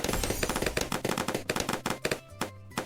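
Sniper tower shots ring out in the Bloons TD video game as a rapid string of sharp, loud cracks, packed almost like machine-gun fire, with a few gaps toward the end.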